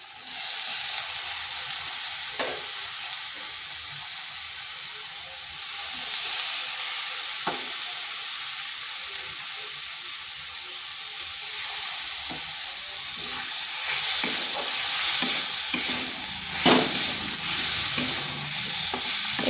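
Chopped banana stem (thor) being sautéed with spices in oil in a kadai makes a steady, close sizzle with brief scraping stir strokes, growing a little louder toward the end.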